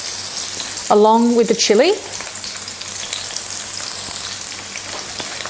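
Onions fry with chilli in olive oil in a pan, giving a steady close sizzle that continues throughout, while a person talks briefly near the start.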